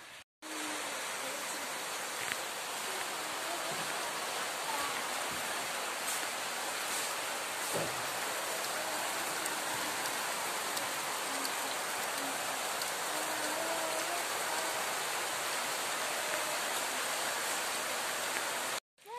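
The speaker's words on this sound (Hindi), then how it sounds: "अभी भी बारिश ही हो रहा है बहुत ही ज़्यादा" Heavy rain falling outside, a dense and steady hiss that holds for nearly twenty seconds, with faint scattered drips and knocks heard through it and no talking.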